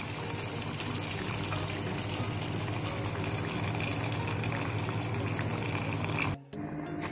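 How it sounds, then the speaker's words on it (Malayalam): Boiled water poured into a pan of Malabar-style chicken curry, a steady close gush of liquid filling the pot for about six seconds, then stopping abruptly. "ഇതിലേക്ക് ഇനി നമുക്ക് തിളപ്പിച്ച വെള്ളം ആവശ്യത്തിന് ചേർത്ത് കൊടുക്കുക."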